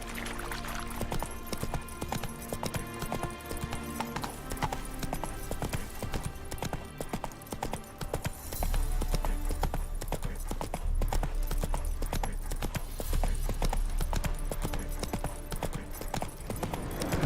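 Roach, the horse in The Witcher 3, clip-clops along in a steady trotting rhythm, the hoofbeats sitting under a dense wash of in-game music and ambience that swells louder partway through.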